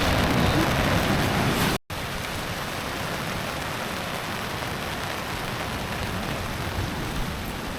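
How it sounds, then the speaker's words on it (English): Steady rain pours down at a seaside campsite, a dense even hiss with one brief dropout near the start, with no voices. "Looking at the sea, I think it's going to rain for a while."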